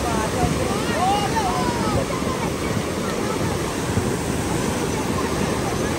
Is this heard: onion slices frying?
no